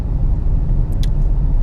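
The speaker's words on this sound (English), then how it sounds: "there's a car coming" A car approaches on the road near the Strákagöng tunnel outside Siglufjörður in northern Iceland, a low steady engine rumble and tyre noise building in the open air, with a brief high squeak partway through.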